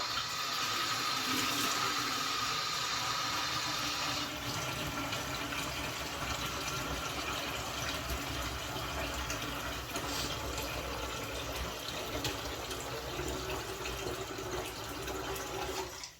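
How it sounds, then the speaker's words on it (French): Tap water pours steadily into a deep fryer being cleaned, a continuous close rushing splash that shifts slightly in tone after a few seconds as the basin fills, with no talking. "on va remplir à l'eau froide ou à l'eau chaude"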